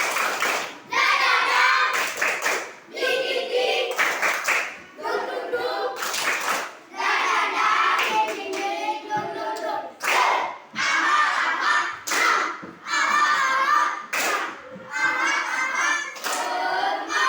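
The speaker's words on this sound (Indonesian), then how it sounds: "Tepuk semangat." A standing classroom of children performs a rhythmic Indonesian spirit clap, loud bursts of patterned clapping broken by brief pauses, with kids chanting along in unison between and over the claps.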